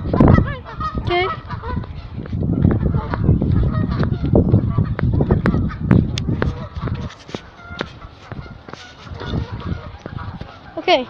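Geese and ducks honk and call repeatedly at a zoo, loud and close, with overlapping bursts of calls and people talking nearby.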